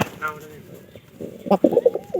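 A few soft, low pigeon coos sound close by near the end, after a brief murmur of voice.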